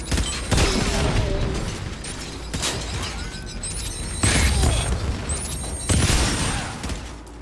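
Blasts in the Call of Duty: Infinite Warfare game: several loud, booming impacts with crashing debris and mechanical clatter land at intervals amid rumbling, sweeping effects, all close and heavy.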